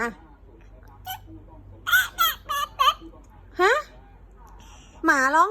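A voice mimics a rooster crowing in several short, wavering high-pitched bursts, then ends with a longer crowing imitation.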